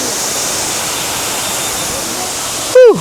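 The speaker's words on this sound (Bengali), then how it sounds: "ভাই অসাধারণ ঝর্ণাটা।" Hum Hum waterfall near Sreemangal, running high with lots of water: a loud, constant broadband roar of falling water, steady throughout, with a brief sharp electronic-sounding chirp at the very end.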